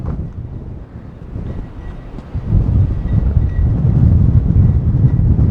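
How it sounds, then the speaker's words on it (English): Strong wind buffets the microphone outdoors near county property as a loud, continuous low roar that grows heavier partway through, with no voices. "It's actually so windy I can see it moving the gimbal a little bit."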